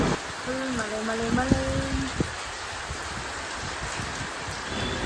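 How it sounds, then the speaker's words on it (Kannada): Heavy rain pours down steadily in a dense, continuous hiss, with a brief tonal squeak and a couple of knocks early on. "ಮನೆಗೆ ಬಂದಮೇಲೆ ಫುಲ್ ಜೋರು ಸ್ಟಾರ್ಟ್ ಆಯಿತು ಮಳೆ."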